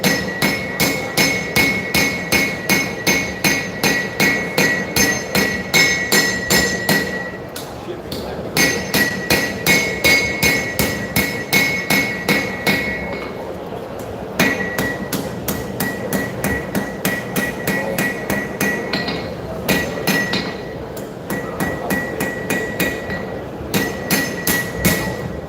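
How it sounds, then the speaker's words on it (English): Hand forging a knife blade with the flat face of a hammer at a live knife-show demonstration, knocking down small peaks along the steel; rapid, steady ringing blows in long runs, broken by brief pauses. "I'm going to switch to the flat side of this hammer."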